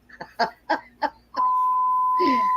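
A phone beeps on a steady, continuous tone, cutting in partway through and running under a couple of short spoken exchanges on the call.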